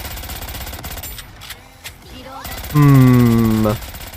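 Weapon fire from the video game Goddess of Victory: Nikke comes as sharp bursts of shots, followed by a loud, sustained tonal sound near the end.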